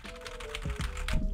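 Quick bursts of typing on a computer keyboard, a short run of soft, close clicking keystrokes over a faint background hum.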